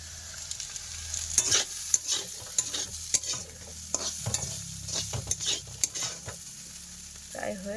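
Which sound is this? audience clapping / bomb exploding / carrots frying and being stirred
carrots frying and being stirred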